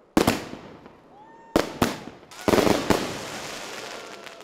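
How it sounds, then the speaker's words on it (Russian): A colourful fireworks display closes an anniversary reunion of school graduates in Kislovodsk, with sharp separate bangs and crackling bursts arriving in clusters, loud and echoing, with quiet gaps between volleys. "Подытожил встречу красочный салют."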